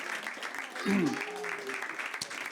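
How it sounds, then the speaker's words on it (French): Audience clapping under someone talking, with a brief tonal voice or note rising over the crowd noise. "On peut les applaudir."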